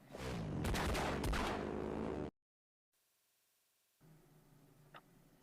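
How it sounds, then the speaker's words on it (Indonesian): Rapid gunfire from a drive-by shooting at a house in a film scene, a dense, loud volley of overlapping shots lasting about two seconds, followed by a sudden silence and then a faint, low background. "Trent dan sepupunya datang dan melakukan drive-by shooting atau mengemudi sambil menembak di rumah itu"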